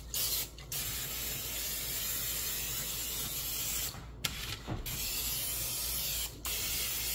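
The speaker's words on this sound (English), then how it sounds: "Spray it with oil." A Kamado Joe grill setting, with oil sprayed onto a salted steak: a long, steady hiss broken by a few short pauses and a small click, close and moderately quiet.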